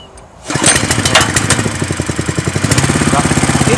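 A Tomitsu 4-stroke petrol water pump engine, 8.5 hp, catches after a quiet start and settles into a loud, steady, rapid chugging run with regular firing pulses.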